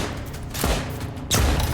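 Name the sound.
gunshots at a turret in video game Lost Skies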